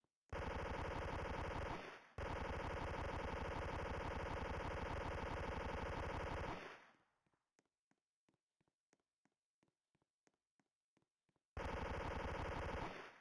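A classic light machine gun in a zombies video game fires two long, sustained, very loud bursts, falls to a few sparse clicks and taps, then opens up again in a third continuous burst.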